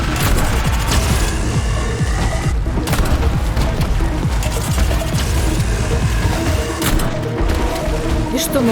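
Gunfire in the Atomic Heart video game, with several sharp shots and crashing impacts over loud, busy game sound while someone talks.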